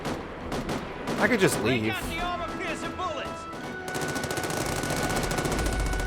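Gunfire crackles in The Amazing Spider-Man 2 video game as officers come under attack: rapid automatic bursts and scattered shots with crashing debris, loud and continuous, while a voice speaks over the first half.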